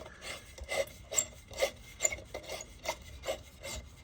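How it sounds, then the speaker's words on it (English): A light bulb being unscrewed from a floodlight fixture, a close, rhythmic series of gritty rubbing and scraping twists, about ten evenly spaced strokes in quick succession. "we're going to unscrew the light bulb"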